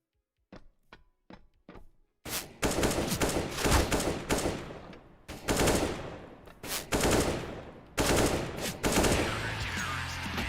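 Counter-Strike: Global Offensive gameplay with AK rifle fire: a few sharp, separate shots, then long, loud bursts of rapid automatic gunfire that roar almost without pause to the end.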